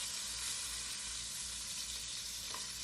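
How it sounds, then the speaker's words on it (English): Onions and garlic sautéing in a pan of cooking fat for a one-pot high-protein meal, a steady close sizzle and fry with no talk throughout. "we're just sautéing enough to soften the onions and garlic to help release their flavors"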